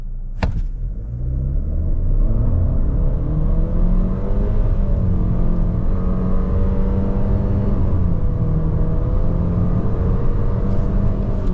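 A 2025 Chery Tiggo 4 Pro with a CVT automatic accelerating hard from 0 to 100 km/h, heard from inside the cabin as a loud, steady engine drone that rises through stepped pitch changes over road rumble, with no talking.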